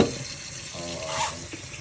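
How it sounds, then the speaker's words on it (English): Tap water runs steadily into a cooking pot, filling it for boiling butternut squash in a Haitian home kitchen, a close, continuous rushing and splashing with no one talking. "So now she's filling it up with water, getting it ready to boil."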